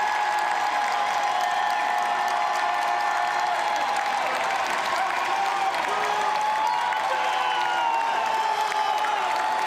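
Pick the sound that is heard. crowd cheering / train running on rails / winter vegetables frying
crowd cheering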